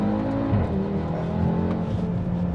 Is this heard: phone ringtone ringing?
no